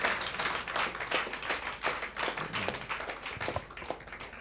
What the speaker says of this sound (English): Come on and clap your hands and tell him thank you.